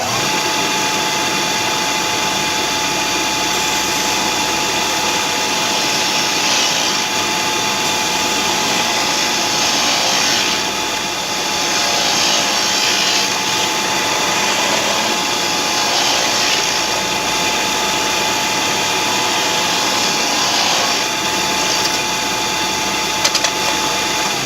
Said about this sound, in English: grind back the head of this machine screw so that when you weld it down here, the washer will press into the angle iron